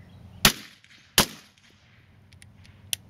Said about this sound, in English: And go ahead and start firing whenever you're ready.